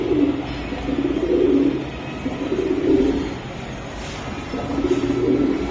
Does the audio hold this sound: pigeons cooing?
yes